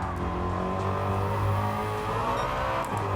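In the Gran Turismo 7 racing game, an engine-swapped Ford Mustang accelerates with a steady, droning engine note that builds under power, loud and continuous throughout.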